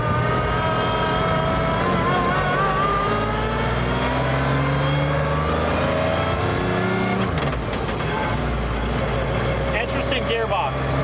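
Mercedes-Benz CLK GTR hypercar pulling away from a green light, its engine droning loud and close as the pitch climbs through a gear change, with people talking over it.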